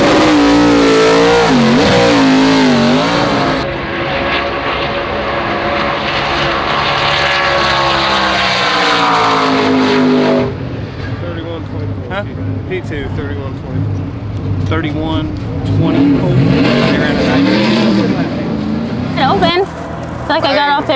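A race car engine revs and accelerates close by, a loud rising and falling engine drone that shifts through the gears, with people talking over it at the track.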